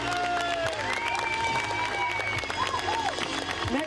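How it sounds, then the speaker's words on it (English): Scattered clapping and cheering from a festival crowd at an outdoor cultural event honoring young martial arts performers, mixed with background music and voices, fairly faint and loosely rhythmic. "give them a round of applause, the young kids"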